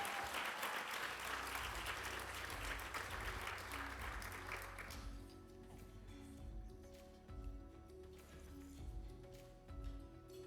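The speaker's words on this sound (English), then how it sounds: "A round of applause for the President and COO of PACS, Josh Jurgensen." Audience applause at a healthcare awards event, a loud, dense wash of clapping that fades out about halfway, leaving quieter room sounds and soft tonal background with occasional low bumps.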